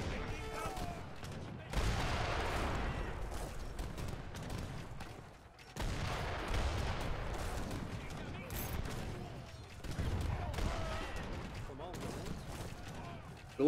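Petards blowing up in Age of Empires III: Definitive Edition during a 2v2 Treaty match: three heavy, rumbling blasts spaced a few seconds apart, each trailing into crackling debris, with a voice talking over the battle.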